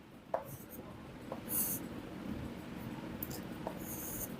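Marker or chalk scratches across a board during a Class 11 maths lesson on sets. The strokes come in short, faint, scratchy bursts with pauses between them, over a quiet room hiss, and no one speaks.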